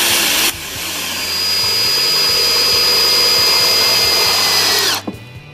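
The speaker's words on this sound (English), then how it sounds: "Here we're taking a Type 17 drill point screw and screwing it into a piece of decking board." Power drill driving a Type 17 drill point screw into a decking board half an inch from the edge, a loud close whine that climbs and labours for several seconds before stopping abruptly.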